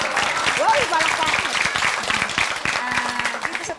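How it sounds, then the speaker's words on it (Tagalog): A studio audience claps and applauds on a pregnancy talk show, a steady patter of hands with a voice speaking over it and a few whoops. "Uy, palakpak!"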